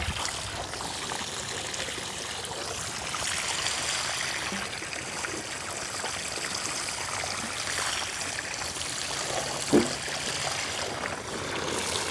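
Water runs steadily onto potted vegetables in a home kitchen garden, a continuous close splashing trickle with a single brief knock near the end and no voices.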